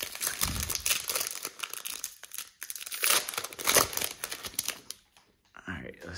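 Foil wrappers of Panini Select trading card packs from a 2022 blaster box being torn open, close and loud with steady crinkling and ripping, then a quieter stretch at the end.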